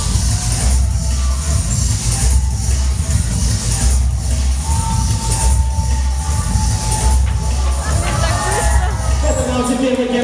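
An audience at a dolphinarium during a dolphin race keeps up a loud, dense roar of shouting and crowd noise, with a few whistles cutting through near the end.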